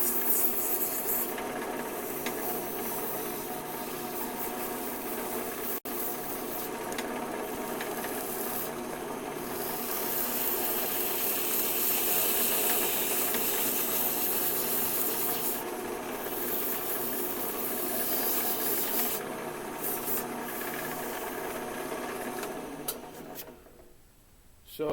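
Wood being sanded on a turning lathe, a continuous rubbing hiss over the lathe's steady mechanical hum, building slightly in the middle and cutting off abruptly at the end.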